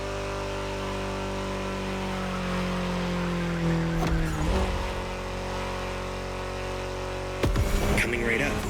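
A BMW M4 in LBWK widebody form drives in the racing game The Crew Motorfest, its engine a steady, loud drone with a deep low hum, briefly disturbed by two bursts of noise, with no talking.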